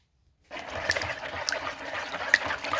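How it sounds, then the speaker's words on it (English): Water from a kitchen tap runs steadily over hands being washed, a near, continuous broadband splash with small bumps and drips, starting after a brief moment of silence. "But first, let me wash my hands."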